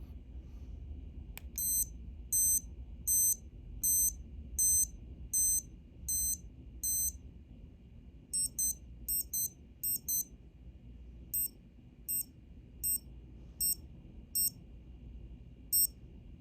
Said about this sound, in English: So there's the main beeps for the hour, there were 8 of those